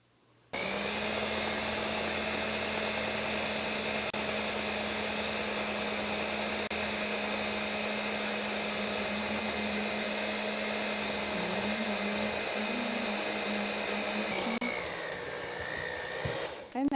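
An electric mixer whirs steadily through cookie dough with oatmeal, a loud continuous motor drone that holds nearly unchanged for about fifteen seconds, then shifts slightly in pitch near the end.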